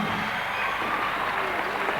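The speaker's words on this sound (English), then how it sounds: "Nice to hear the crowd cheering here at the stadium" A stadium crowd at a 1990 NBL basketball game between the Newcastle Falcons and Westside Melbourne Saints cheers and applauds in a dense, steady roar that fills the whole moment.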